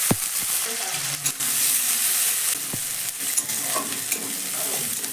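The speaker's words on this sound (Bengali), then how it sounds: "জিরেটা যখন হালকা কালার চেঞ্জ হয়ে যাবে তখন আমি এর মধ্যে দিয়ে দিচ্ছি একটা মিডিয়াম সাইজের কুচনো পেঁয়াজ।" Chopped onion added to hot oil with whole cumin, frying in a pan with a loud close sizzle, broken by a few sharp clinks and scrapes of stirring.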